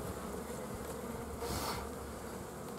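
Honey bees hum in a steady, close drone as young workers chew through their wax cell caps on a brood frame from a small, depopulated nucleus colony, the buzz swelling slightly midway with no voices.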